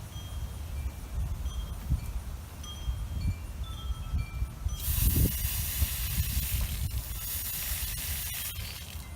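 Aquarium filter media rinsed under a water spray: a steady close hiss of running spray that swells into a louder, brighter rush partway through, with no talk.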